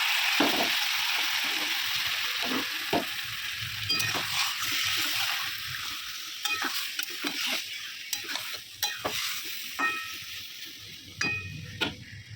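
Marinated chicken for biryani frying in a pan on low flame, a steady close sizzle broken by repeated scraping and stirring clatters against the pan.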